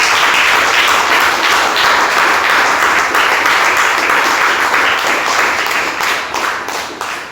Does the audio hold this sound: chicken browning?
no